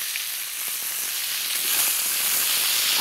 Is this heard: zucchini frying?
yes